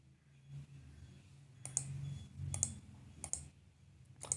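Sharp computer mouse clicks while working in Power BI, a handful of isolated taps spaced irregularly over faint room hum.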